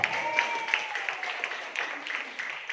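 Moderate audience applause at a marketing plan presentation, continuous clapping with a few sharper claps, at a modest level in a room with some faint voice underneath.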